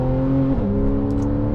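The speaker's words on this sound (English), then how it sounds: "the switchable sports exhaust, which makes it sound glorious" Porsche 991 Carrera 4S with 7-speed PDK and switchable sports exhaust, a steady loud engine drone with the pitch dropping slightly midway, close and continuous.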